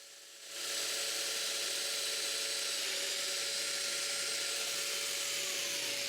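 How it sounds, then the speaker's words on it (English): Power tool drilling domino mortises into thick wood, a steady loud whine with broadband hiss starting after a brief quiet moment and running continuously to the end. "I mark for domino mortises and drill them."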